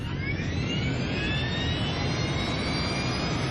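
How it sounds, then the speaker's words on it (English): An Air France jet airliner takes off from a Paris runway, its engines giving a loud, steady roar with a rising whine layered on top, continuous and close, with no voices. "Flight 358 powers into the sky above Paris."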